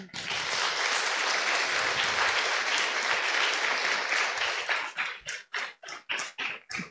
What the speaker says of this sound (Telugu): సంఘస్థులందరూ, గుళ్ళో ఉన్న వాళ్ళందరూ చప్పట్లు కొట్టండి.